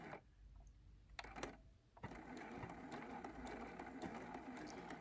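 A sewing machine stitches the border of a homemade quilt, starting with short bursts and then settling into a steady, continuous mechanical whir, close and clear with no talk.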